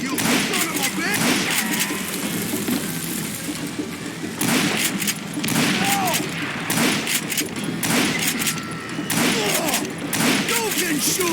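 Rapid gunfire from revolvers and rifles in the Wild West shooter game Call of Juarez: Gunslinger, with loud, dense repeated shots and booms that run almost continuously over a game soundtrack, while someone talks over it.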